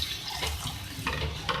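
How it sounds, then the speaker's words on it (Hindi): Water pours steadily from a glass into a cooking pot while sohali is being made in a home kitchen, a continuous close splashing and trickling sound. "2 गिलास पानी मैं इसमें ऐड कर रही हूँ।"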